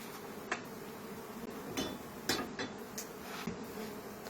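Honeybees buzz inside a wax-sealed hive built in an old chest of drawers during a cut-out, making a soft, steady hum with sharp knocks and scrapes from a hive tool prying at the wood.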